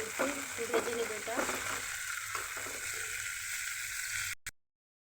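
Onions and green chillies fry in soybean oil, a steady close sizzle with a few clinks and stirring sounds early on, before cutting off abruptly to silence near the end.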